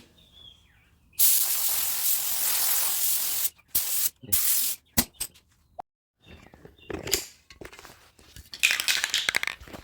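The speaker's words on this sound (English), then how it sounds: "I'm spraying at a distance because now I can really see the gold" Bursts of aerosol spray paint hiss out, gold pearl over Rust-Oleum Sunburst Yellow, one long blast followed by several shorter sprays with pauses, close and loud, plus faint rustling and clicks.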